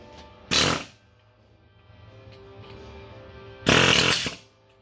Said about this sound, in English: you can actually just take the air hammer and a chisel and it'll pop right off